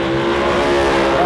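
The famed Candy Cuda drag race car, a Mopar Hemi machine run by Joe Teuton at a Dodge Hemi shootout, roars loudly and steadily at close range in a sustained high-revving launch.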